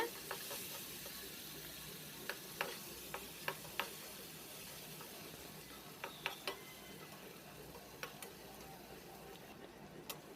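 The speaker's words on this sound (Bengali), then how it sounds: "তেলের মধ্যে উপকরণগুলো একটু নেড়ে চেড়ে ভেজে নেব" Vegetables being stirred and fried in soybean oil in a pan, a steady soft sizzle with scattered light ticks and taps of the spoon against the pan, close and fairly quiet throughout, no talking.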